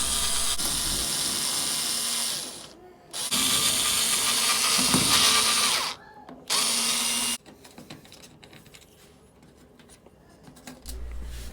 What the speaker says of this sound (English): Back out these 4 screws that are holding the water manifold.